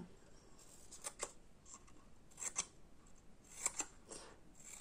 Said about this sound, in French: alors je coupe un peu les pétales